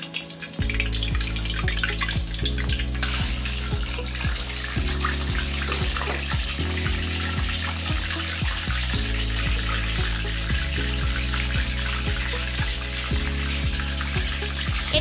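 Chicken leg pieces frying in hot oil in a wok, a steady, dense crackling sizzle that runs loud and unbroken throughout, with low tonal hum beneath and no talking.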